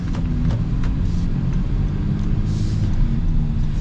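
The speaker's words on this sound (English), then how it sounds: "this V6 is smooth with the 10-speed" Steady low rumble of a 2026 Honda Odyssey Elite V6 heard from inside the cabin, a smooth continuous drone with road noise and no distinct breaks at its 10-speed gear changes.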